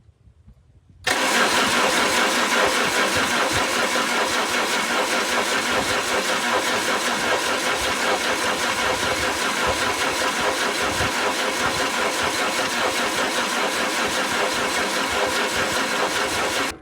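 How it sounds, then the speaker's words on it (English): The seized four-cylinder gasoline engine of a 1985 Chevy cranks loudly and without a break for about fifteen seconds after a short quiet start. The starter drones in a fast, even rhythm up close, and no one speaks. "Tight 4-cylinder gas engines love ether."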